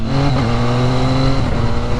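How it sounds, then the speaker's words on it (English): A Caterham 7 kit car drives by on a UK road, its engine a loud, steady harmonic drone with a slight pitch shift as it passes close, heard from a motorcycle rider's position. "Is that a Caterham 7?"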